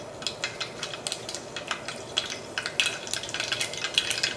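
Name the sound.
mustard seeds spluttering in hot oil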